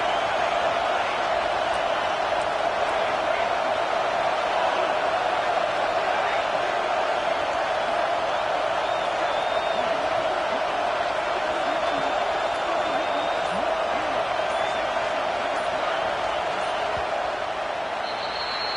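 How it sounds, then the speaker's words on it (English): Large stadium crowd at a Nebraska vs Texas A&M football game roars continuously, a dense, sustained wall of cheering and voices with no breaks, with talking faintly beneath it. "this crowd is fired up. Listen to this noise here"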